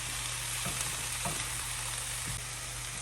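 Vegetables for a vegan chow mein cook down in a pan with a steady, dense sizzle that stays loud and even throughout, punctuated by a few faint stirring scrapes.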